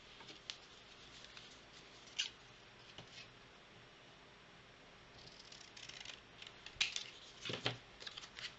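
Scissors snip through a scrap of paper while making an envelope-based greeting card, a few quiet, scattered cuts, the clearest cluster of crisp snips near the end.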